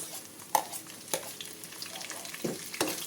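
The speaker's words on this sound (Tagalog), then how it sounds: "Halo-haloin na rin po natin hanggang sa maging golden brown po siya." Garlic, then onion, frying in a pan for a shrimp-paste dish, with a constant close sizzle broken by a few sharp clacks of a utensil stirring against the pan.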